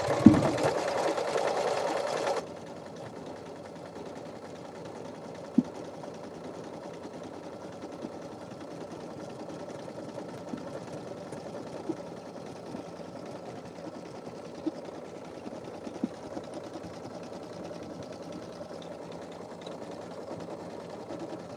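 A sewing machine stitches steadily with a continuous mechanical hum for over twenty seconds, close and moderately quiet, with a few faint clicks and a brief louder burst at the start.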